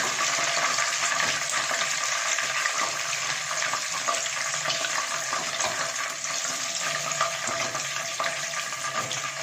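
Spices frying in hot ghee for an achar chicken curry, a loud, dense and continuous sizzle heard up close, steady throughout with no talking.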